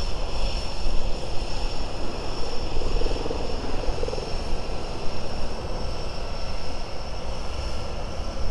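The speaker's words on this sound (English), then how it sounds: "I even hear a helicopter," A helicopter flies over a busy harbor, its rotor and engine drone a continuous, fairly loud rumbling roar that holds steady throughout with no talking.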